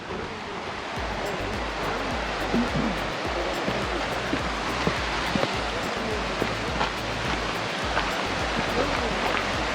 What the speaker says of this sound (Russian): Я слышу, протекает речка внизу.